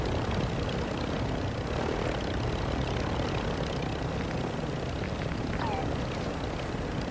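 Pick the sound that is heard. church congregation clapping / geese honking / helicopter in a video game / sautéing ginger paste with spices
helicopter in a video game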